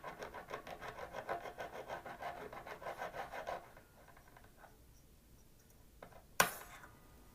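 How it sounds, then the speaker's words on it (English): A file rasps rhythmically back and forth across an uneven fret on a G&L Legacy electric guitar, a steady run of close scraping strokes that stops partway, followed by quiet handling and a sharp click. "you just slip that under the string, and then you can start filing."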